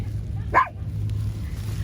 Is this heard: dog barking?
yes